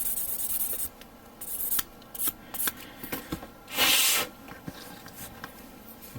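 Someone sands the plastic part of a 1/144 HG Kshatriya Gundam model with 800 grit sandpaper in short, uneven rubbing strokes, close and fairly crisp, with pauses between bursts and one longer scrub near the end.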